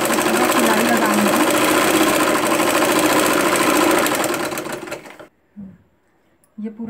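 A sewing machine runs steadily with a fast, even mechanical chatter, stitching gathers with long stitches on nighty fabric for about five seconds before stopping; brief handling sounds follow in the quiet.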